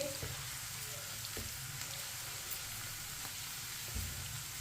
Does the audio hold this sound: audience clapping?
no